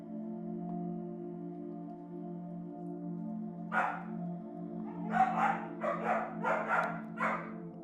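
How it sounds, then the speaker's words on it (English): A puppy yaps several quick barks in a row, fairly close, over a steady low hum in a quiet room during a bedtime yoga stretch session, with a silent lead-in before the barking starts. "This puppy keeps barking at the other puppy"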